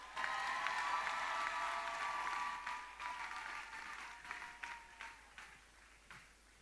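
A church congregation breaks into loud, sustained applause and cheering that fills the room, then gradually thins and fades over several seconds.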